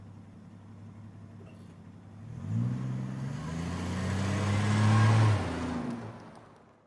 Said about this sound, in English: I got into the car again and drove on slowly.